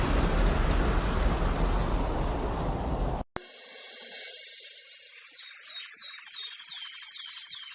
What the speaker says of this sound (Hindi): यह तो बहुत जोर की बारिश आ गई